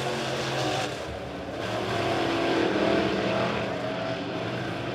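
Midwest modified race cars circle Springfield Raceway in a heat race, a dense roar of several engines swelling and fading as they pass, heard from trackside with no voices.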